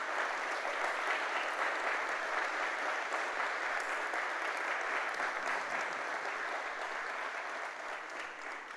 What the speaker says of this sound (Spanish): dale un fuerte aplauso a Jesús por eso